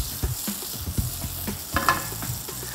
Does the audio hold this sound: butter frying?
yes